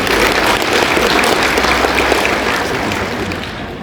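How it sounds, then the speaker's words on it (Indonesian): A graduation audience at IAIN Manado applauds after a professor is welcomed, a dense, loud, continuous roar of clapping in a large hall that eases off slightly toward the end. "Tepuk tangan dulu."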